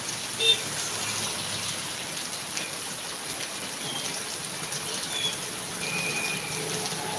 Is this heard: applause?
no